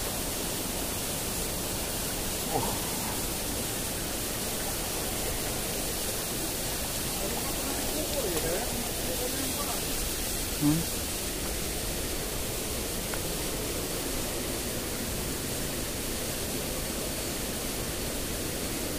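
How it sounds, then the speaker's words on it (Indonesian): Steady broadband wind rush buffets a microphone beside a flooded river, a continuous noisy roar with a faint brief knock near the middle and no clear talk. "Anginnya mantap."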